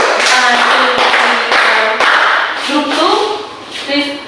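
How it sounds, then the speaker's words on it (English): Pupils in a classroom give a round of sharp claps, several distinct hand slaps spaced across a few seconds, with children's voices and classroom talk audible throughout. "Please give 5 claps"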